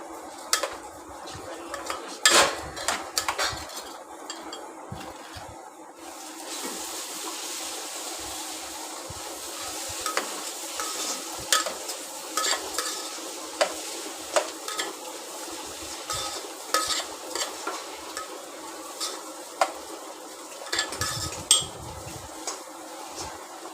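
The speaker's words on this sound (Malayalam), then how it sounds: "ഒരു മിനിറ്റ് നല്ലപോലെ വറുത്തെടുക്കും" Rice frying with hot spices in a pot for Malabar beef biryani, stirred with a utensil that scrapes and clinks against the metal in irregular bursts over a low, continuous sizzle, close by with no talking.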